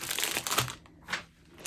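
A heavy plastic cover sheet on a diamond painting canvas crinkles in a few soft, close bursts separated by short quiet gaps.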